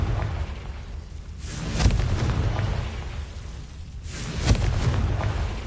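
Confringo blasting spells from the Hogwarts Legacy video game go off as two booming explosions a few seconds apart, each a sharp burst trailing into a rumbling roar, with no talk over them.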